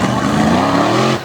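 A monster truck from Elkton, Virginia revs its engine at a show in Winchester, a loud, steady, close roar with rising harmonic whine that holds for about a second before cutting off abruptly.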